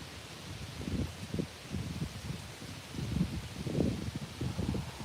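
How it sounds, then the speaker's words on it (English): Strong wind blows outdoors, buffeting the microphone in low rumbling gusts that swell and fade every second or so under a steady hiss. "That wind's pretty strong."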